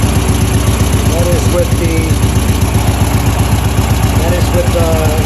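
A vintage Royal Enfield Bullet motorcycle with a 6-volt electrical system idles steadily with its lights off, a loud, close, even low thumping engine rhythm that runs throughout.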